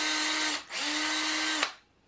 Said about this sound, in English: I think I better pre-drill a couple in here first